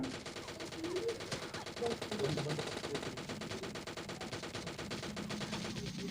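Gunfire in the PUBG Mobile Lite video game, a fast steady stream of shots running throughout at even level, with faint game voice sounds mixed in.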